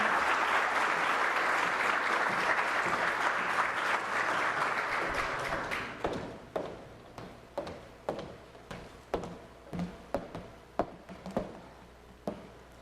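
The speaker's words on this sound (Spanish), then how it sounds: "recibamos con un fuerte aplauso a la presidenta del Consejo Hondureño de la Empresa Privada" A crowd at a Honduran political forum applauds to welcome the president of the private-enterprise council, a thick burst of clapping for about six seconds that fades into a dozen slow, scattered individual claps.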